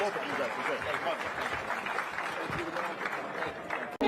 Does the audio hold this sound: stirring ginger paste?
no